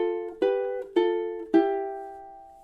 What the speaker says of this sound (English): And then I'm going to do a muted strum